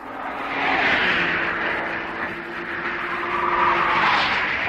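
Race cars lapping at the 1965 Armstrong 500, Ford Cortinas among them, a steady engine drone that swells and fades as cars pass at moderate distance, heard alone.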